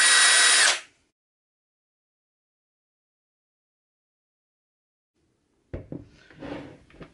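SKIL 20V brushless cordless combi drill, model 3075, whirring at high speed for under a second and then stopping dead with its electric brake, followed by long silence and a few handling clicks and knocks.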